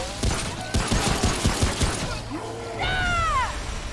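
Rapid pistol gunfire from Remnant: From the Ashes, a quick burst of sharp close shots in the first half, followed by creature shrieks and whooshing game effects.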